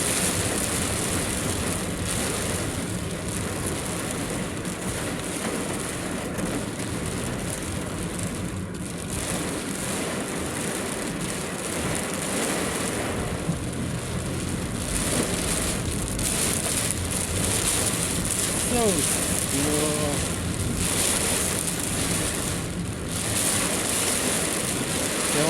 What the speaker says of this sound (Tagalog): Ulan tapos may kasamang hangin.